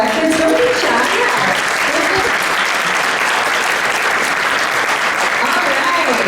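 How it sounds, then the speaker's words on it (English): A big round of applause from the crowd at a community iftaar gathering for elected officials, sustained loud clapping with scattered voices and murmurs underneath throughout. "So can we give a big round of applause for our elected officials?"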